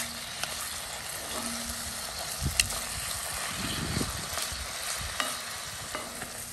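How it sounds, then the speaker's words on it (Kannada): Packet paneer frying in a pan on the stove, a steady close sizzle with occasional stirring clicks and scrapes against the pan, no talking. "ಇದು ಪ್ಯಾಕೆಟ್ ಪನೀರ್ ನಾನು ತಂದಿರೋದು ಇದನ್ನ ಸ್ವಲ್ಪ ಹೊತ್ತು ಫ್ರೈ ಮಾಡುವ ಸ್ವಲ್ಪ ಕಲರ್ ಚೇಂಜ್ ಆಗೋವರೆಗೆ"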